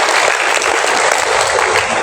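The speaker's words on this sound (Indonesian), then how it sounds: "Sekali lagi tepuk tangan untuk kita semua," Audience applause at a government small-business gathering in Batam, Riau Islands, a dense, steady clapping from a large crowd filling the whole moment, loud and close with no break.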